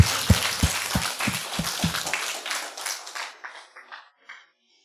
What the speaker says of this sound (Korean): 여러분 이 하나님께 우리 박수로 하나님께 영광 올리겠습니다